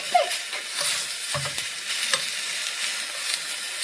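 Miniature meat and rice noodles crackle and sizzle in a tiny stir-fry pan, a steady close hiss broken by quick scraping stirs.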